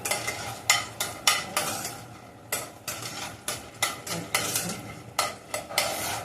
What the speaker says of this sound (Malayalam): ഏലക്ക ഇതിൻ്റെ അകത്തിട്ട് തന്നെ നമുക്ക് ഒന്ന് വഴറ്റാം ഏലക്കപ്പൻ്റെ കൂടെ ഒന്ന് വഴറ്റിയെടുക്കാം